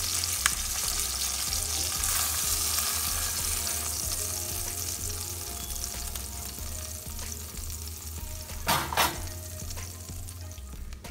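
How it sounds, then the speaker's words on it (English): Onions sauté in hot oil in a pan for Mexican salsa, giving a steady close sizzle and frying crackle with occasional stirring scrapes and a brief louder burst near the end, with no voices. "Saute the onions in the same oil"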